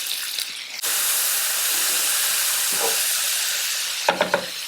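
Onion and leeks dropped into a pan with a generous bit of butter, bursting into a loud, steady hissing sizzle close by, followed by a few stirring knocks.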